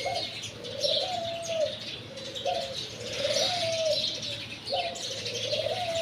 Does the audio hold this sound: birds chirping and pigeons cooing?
yes